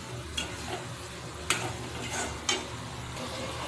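Fish roe being sautéed in a pan, heard as a faint, low sizzle with a few sharp scrapes of a spatula stirring at intervals, quiet and close with no voices.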